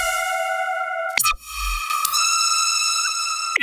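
Short synth zaps drenched in reverb: a sustained buzzy tone, then two sharp zaps at roughly one-second intervals, each trailing into a lingering wash of reverb, fairly quiet and alone.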